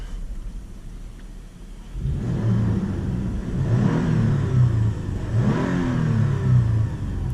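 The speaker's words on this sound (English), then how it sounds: "Loop it and I'll rev while it does the move." A car engine, heard from inside the cabin, sits at a low idle for about two seconds and then revs up into a sustained, rumbling roar that rises and falls through the rest of the clip. No speech is heard.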